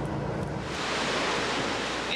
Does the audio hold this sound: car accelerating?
no